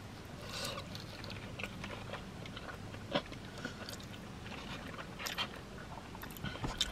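Someone eats chili cheese fries mukbang-style, with soft, close, irregular bites and chewing and occasional crisp crunches, all quiet.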